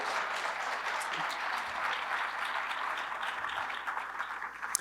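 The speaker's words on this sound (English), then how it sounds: "You can applaud that, please." A convention audience of lawyers gives dense, sustained applause, many hands clapping together at a steady level for the whole stretch before it starts to thin at the close.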